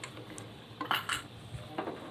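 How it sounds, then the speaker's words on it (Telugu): Spoon scraping and clinking against a metal cooking pan while chicken fry is stirred, a few short bursts of clatter over a low background sizzle, close and moderately loud. "ఇలా మొత్తం ఒకసారి కలుపుకోవాలి."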